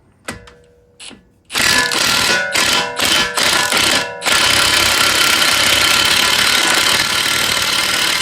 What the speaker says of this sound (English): Now let's take the axle nut off. It's a 32 millimeter.